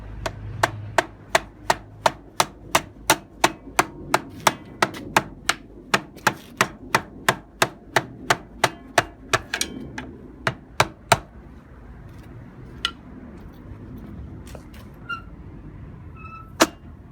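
A Dyson CR01 gearbox checked after a smash gives a long run of sharp, evenly spaced mechanical clunks, close and loud, which thin out and stop toward the end, leaving a faint hum and a few scattered clicks.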